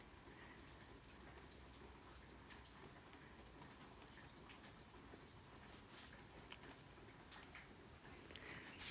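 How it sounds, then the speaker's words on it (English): Steady, soft rain patters outside at a distance, a faint even hiss of drops with no voices, continuous throughout. "So it's raining here."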